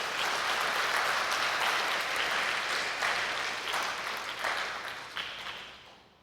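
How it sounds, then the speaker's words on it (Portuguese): A church congregation at a Sunday morning service bursts into loud, full applause, a dense wash of clapping that gradually fades away over several seconds. "Você pode aplaudir o Senhor nesta manhã por isso?"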